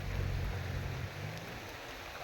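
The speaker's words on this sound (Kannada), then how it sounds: "ನೋಡಿ, ಮಳೆ ಬರ್ತಿದೆ, ಮೊಬೈಲ್ ಚಂಡಿ ಆಗ್ತಿದೆ" Steady rain falling outdoors beside an overflowing village stream, a dense continuous hiss with low rumble, close and even throughout, no talking.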